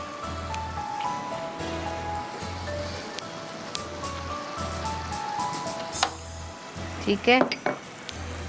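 Minced meat frying on a tawa with cardamom, ginger and cream, a steady sizzle under clinking utensils and a regular low hum, with a brief spoken word and a scraping clatter near the end.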